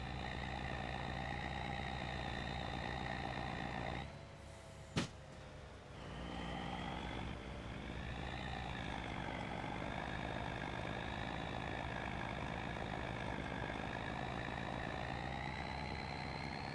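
A steady in-game truck engine drone in Farming Simulator 25, set on an Arkansas farm map, idling and running at an even pitch with a brief dip and a single sharp click partway through.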